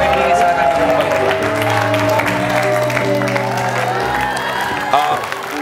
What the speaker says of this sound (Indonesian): boleh kita berikan tepuk tangan untuk Gus Mia dan juga Rifki.